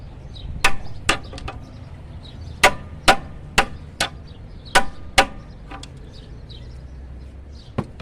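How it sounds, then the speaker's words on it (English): A small hammer taps a pry bar on a 2001–2005 Honda Civic engine. About a dozen sharp metallic clinks come in uneven clusters, clear and close against a quiet background. "I'm just gonna tap it with a little hammer."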